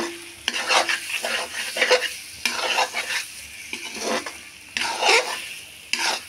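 A spoon stirs egg curry with fresh coriander in a hot pan, bursts of loud scraping and sizzling strokes repeating every second or so, close up, with brief pauses between.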